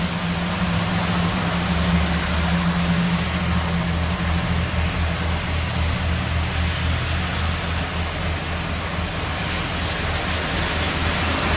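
Heavy rainstorm downpour in Rainier, a dense and steady roar of rain pouring onto surfaces, loud and unbroken throughout with no voices.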